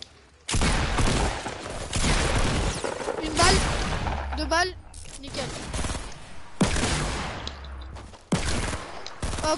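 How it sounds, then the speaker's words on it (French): Rapid bursts of video-game gunfire in a battle-royale match crackle loudly in several clusters across the clip, mixed with players talking over the action. "je lui mets une balle"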